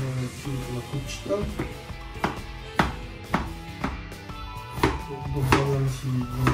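Quick knife chops against a board in an uneven rhythm, close by, with a steady low hum underneath.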